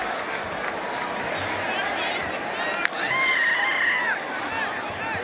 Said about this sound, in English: if you hear the buzz coming out of the crowd right now on the stadium